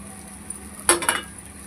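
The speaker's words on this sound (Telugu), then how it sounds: "ఇప్పుడు వేయించి పెట్టుకున్న ఈ ఆమ్లెట్ ముక్కల్ని ఇందులో వేసుకుందాం." Fried omelette pieces are tipped into egg fried rice in a pan and stirred, giving a brief metal scrape and a couple of clinks of the utensil against the pan, close and short, with no talking.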